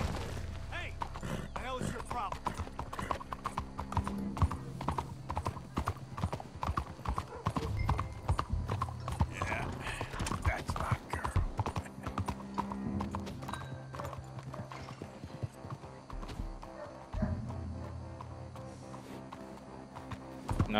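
Horse hooves clip-clop in rapid galloping rhythm in Red Dead Redemption 2, loud and continuous across the whole stretch, with occasional thuds and a whinny, under background game sound and some talking.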